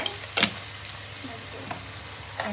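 Fenugreek powder sizzles in oil in a pan for Telugu-style fish curry, giving a steady, close frying hiss with a couple of brief louder stirring scrapes.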